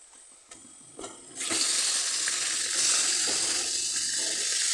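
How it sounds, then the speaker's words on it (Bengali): Chicken pieces drop into a pan of fried onions for a Bengali fennel chicken, and after a few quiet clinks a loud, steady hissing sizzle bursts up and holds close by. "এবার আমি এর মধ্যে চিকেনগুলো দিয়ে দেব"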